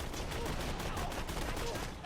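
A Cannon assault rifle fires in Borderlands 2 as a rapid dense run of heavy shots, loud and continuous with no pauses.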